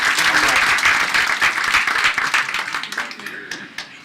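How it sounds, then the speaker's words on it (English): An audience gives a round of applause at a gathering, starting as a full wash of clapping and thinning to scattered individual claps as it fades. "you can just give yourself a big round of applause."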